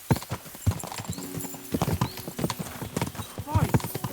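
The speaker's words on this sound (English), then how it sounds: "We should spur the horses on." Horses gallop with rhythmic clip-clopping hooves in Kingdom Come: Deliverance 2, steady close hoofbeats throughout, mixed with voices talking and a brief whinny near the end.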